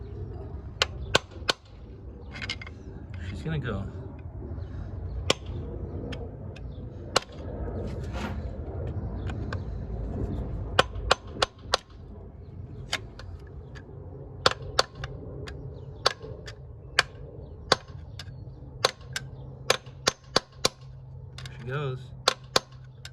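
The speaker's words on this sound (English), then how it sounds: "The old hammer. Give her a good whack." A hammer whacking on a SAAB 9-3 valve cover, struck as many sharp, loud metallic cracks at irregular intervals, some in quick clusters, over a low background rumble, with brief talking.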